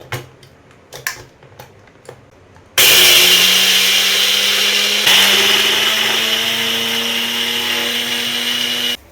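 An electric grinder whirs loudly and steadily as it blends a half cup of sugar into powdered sugar for a vegetarian cake, starting abruptly after a few soft kitchen clatters and running for several seconds.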